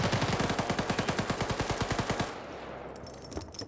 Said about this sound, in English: Nade goes in. Thermite grenade, regular grenade.